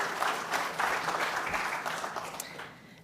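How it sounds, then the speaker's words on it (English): Steady applause from an audience, many hands clapping in a dense wash that gradually fades toward the end. "I want to begin by giving you a round of applause"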